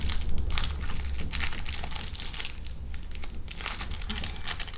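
A blind bag toy package is torn open by hand, a steady close crinkling and rustling of plastic foil with small tearing bursts, no talking.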